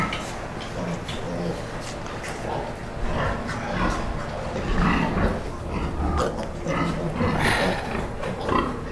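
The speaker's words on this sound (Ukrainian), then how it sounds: "Тоже свинка." Pigs and piglets on a farm grunt and snuffle in a continuous busy chorus close by, with a voice speaking intermittently over the animal noise.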